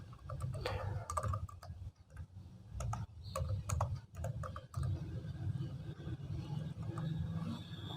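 Someone types an email address on a computer keyboard, a quiet run of clicking keystrokes in irregular bursts over a low steady background hum.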